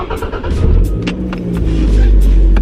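Loud modified Toyota Camry engine droning continuously from inside the car, a heavy low rumble that builds slightly toward the end, with scattered rattles and knocks above it.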